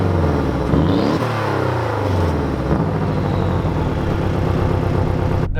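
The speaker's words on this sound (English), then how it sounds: "you also do get some turbo noise, which I really, really appreciate" Turbocharged 2.5-liter four-cylinder in a Porsche 718 Cayman, heard from inside the car: a steady engine drone that rises and falls, with a faint whistle, continuous and loud.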